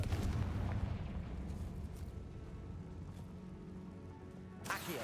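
The Confringo blasting spell in Hogwarts Legacy lands as a heavy, booming explosion with a rumbling tail that fades, followed by a sharp new burst at the end.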